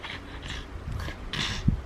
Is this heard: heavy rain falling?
no